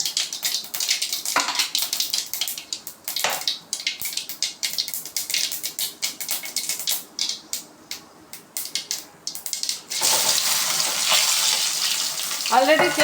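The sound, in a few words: mustard seeds crackling in hot cooking oil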